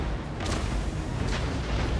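Distant artillery fire in the Total War: Warhammer 2 battle game, heard as a couple of soft booms within a dense, continuous rumble of battlefield noise, with no talking.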